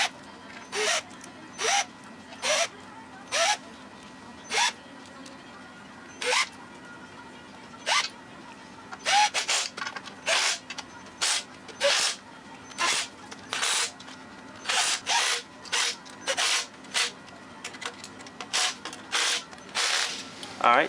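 Bolts are being fitted back into an Arctic Cat clutch housing during a wet clutch delete, heard as a long series of short, sharp ratcheting bursts close by, with brief pauses between them.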